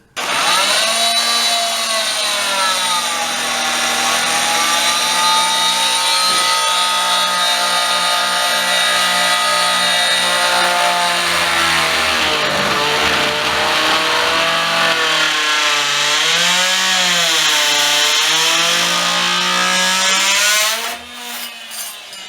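A loud power tool whines and grinds as it plunge cuts into wooden quarter round, pitch rising and falling with the load, then abruptly cutting out near the end.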